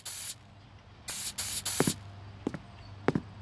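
Spray paint hisses onto a go-kart in the Gearhead Karting video game in several short, sharp bursts of varying length, close and clear, separated by a quiet background with faint clicks.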